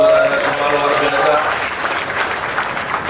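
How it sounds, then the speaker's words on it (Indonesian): Audience at an NU anniversary cultural oration applauds loudly, a dense wash of clapping that swells and then gradually tapers, with voices mixed into the crowd noise. "tepuk tangan buat Anda semua, luar biasa"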